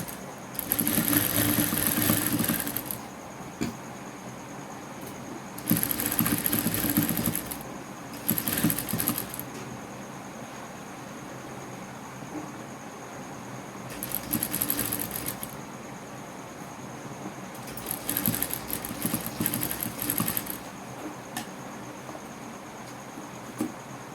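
A sewing machine stitches lace onto a garment edge, running in several bursts of a few seconds each with pauses between them, fairly close with a steady mechanical whir.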